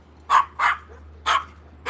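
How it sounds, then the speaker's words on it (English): A dog barks from behind a fence: four sharp, fairly loud barks in an uneven rhythm with short quiet gaps between them. "Stop barking at him."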